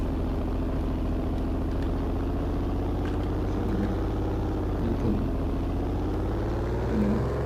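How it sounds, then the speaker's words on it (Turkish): A car engine in the video game Unturned drones steadily, a constant low rumbling hum at even loudness throughout, with no voices. "Bir de arabanın sesini duyunca arabaya bineceğim."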